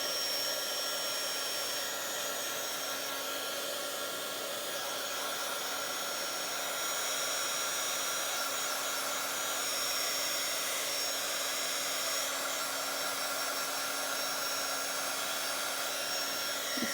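A hot air blower hums in a steady, moderately quiet drone while drying stickers in a Bible journal, running continuously without a break and with no talking.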